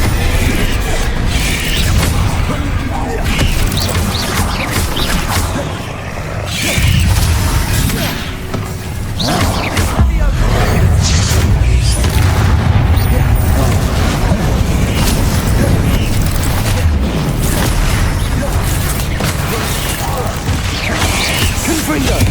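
Repeated Bombarda spell blasts in Hogwarts Legacy erupt as loud, dense booms and crashes over a constant roar of combat noise, with shouted voices mixed in throughout.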